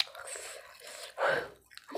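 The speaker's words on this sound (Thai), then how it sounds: "ต้มไปเปื่อยเคี้ยวกรุบกรุบกรุบกรุบ" Close, wet chewing of boiled pork stomach with a couple of crisp crunchy bites, heard up near the mouth with no talking.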